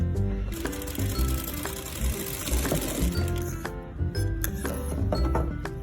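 A sewing machine runs in steady motor bursts, stitching a folded border on the open edge of a princess-cut deep-neck blouse, with clinking knocks between runs and no talking.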